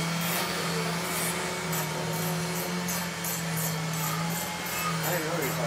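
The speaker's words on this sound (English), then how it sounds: "I think they're using the smaller, more detailed size chainsaws right now" A small detail chainsaw buzzes continuously in the distance at an outdoor chainsaw carving championship, its engine note wavering slightly as it works through wood, with faint voices in the background.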